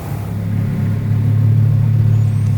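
A Lamborghini Urus with an 800HP hybrid engine, out on a road test, gives a deep, loud, continuous rumble that swells slightly as it goes.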